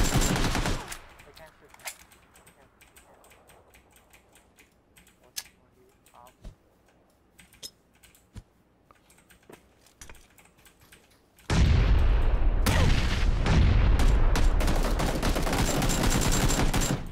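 Rapid video-game gunfire bursts in dense, loud volleys after a quiet stretch of sparse clicks and faint taps, the shooting filling the last several seconds.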